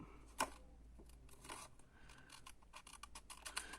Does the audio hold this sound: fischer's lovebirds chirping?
no